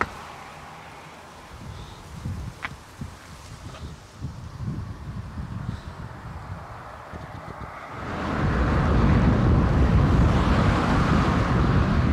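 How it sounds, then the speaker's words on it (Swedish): Warm southerly wind blows during a summer recumbent bicycle tour to Regensburg, first as quieter gusty buffeting against the microphone, then swelling after a few seconds into a loud, steady roar. "En varm kvar vind som blåser från syd."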